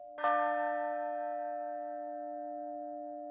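A large cast bronze bell at a centuries-old Austrian bell foundry is struck once with a hammer, a bright clang followed by a long, pure, slowly fading hum of sustained tones.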